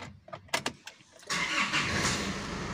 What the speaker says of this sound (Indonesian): Oke, mobil kita hidupin.